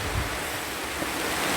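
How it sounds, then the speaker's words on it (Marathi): Sea waves and wind surge in a dense, continuous roar on a rainy, foggy coast, close and loud for the whole short stretch. "बघा कसा वाटतो पावसातून एकदम समुद्र"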